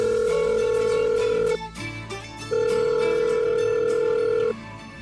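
A phone call ringing out unanswered, loud steady electronic ringback tones in two long bursts separated by a short pause, with faint background sounds between.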